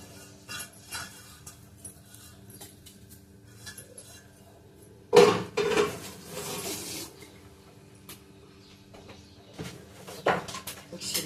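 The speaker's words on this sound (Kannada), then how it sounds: "ಎಲ್ಲ ಪಾತ್ರೆ ನೋಡಿ ಎಷ್ಟುಂಟು ತೊಳಿಲಿಕ್ಕೆ ಈಗ ತೊಳಿಬೇಕು" Dishes and cutlery clink and clatter at intervals, with one louder clattering burst near the middle, against a quiet background.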